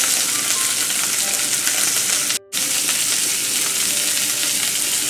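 Steaks sear in a hot pan to build a crust before going into the oven, a loud, steady sizzle and crackle filling the whole stretch, broken once by a very brief silent gap midway.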